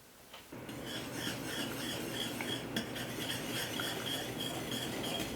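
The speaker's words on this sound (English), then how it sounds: "And then just whisk in your butter and your vanilla." A whisk stirring butter and vanilla into hot banana cream pie filling in a pan, giving a steady close scraping and clinking that runs continuously without talk.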